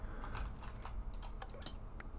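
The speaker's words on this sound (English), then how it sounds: "Yeah, so I'll start typing fully caps." Rapid typing on a computer keyboard, close-up clicks and clacks in a quick irregular rhythm over a low steady background hum.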